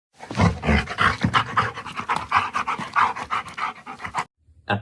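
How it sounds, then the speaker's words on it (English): A creature runs and pants hard, with rapid, loud, ragged breaths and footfalls repeating in a steady rhythm close by for about four seconds before dropping away, then a faint sound returns briefly at the end. "the sounds of something running, panting hard"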